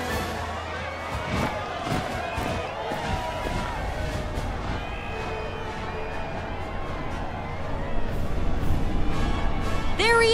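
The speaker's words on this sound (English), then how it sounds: "Can you even hear me over this crowd?" A crowd cheers at a parade in Final Fantasy VII Rebirth, a dense roar of voices with scattered sharp claps and bursts, holding steady and swelling near the end.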